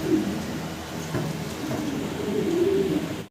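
Lahori pigeons coo repeatedly up close, a steady run of low, throaty, rolling calls that carries on without pause over a faint background hiss.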